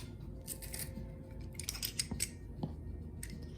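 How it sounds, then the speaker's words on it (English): Big garlic cloves cut in half with kitchen scissors, a few crisp snips and clicks close up over quiet kitchen background noise. "Sometimes the cloves are so big I need to cut them in half."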